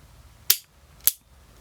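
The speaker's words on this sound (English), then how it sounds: "I have 3 blanks loaded in this revolver." Two sharp, loud reports from a Zoraki R1 9mm blank revolver with a 2.5-inch barrel, fired single action, spaced about half a second apart and ringing briefly in an otherwise quiet setting.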